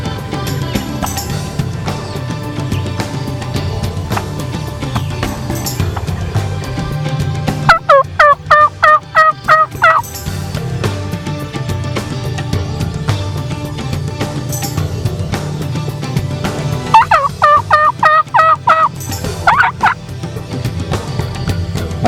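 A wild Gould's turkey hen calls during a spring hunt in the Mexican mountains: two loud bursts of rapid, evenly spaced yelps, close and clear over steady low background rumble.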